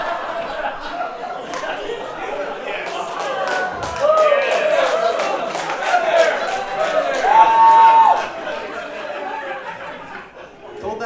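A live comedy club audience laughing, chuckling and clapping after a joke, a steady crowd roar with scattered claps and voices throughout.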